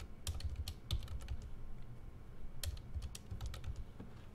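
Typing on a computer keyboard while naming a report, a quick irregular patter of soft key clicks close by, fairly quiet and with no talking.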